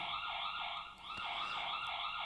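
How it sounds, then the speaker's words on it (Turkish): Electronic alarm siren from a Cata CT-4051 smart security camera, a loud, continuous wailing tone that rises and falls in steady repeating sweeps with no voices. "Şuradan sirene bastığınız zaman siren çalmaya başlıyor kameradan."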